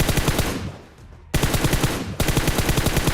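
Rapid automatic M4 rifle fire in the PUBG video game, loud sustained bursts of closely spaced shots with a brief pause between volleys.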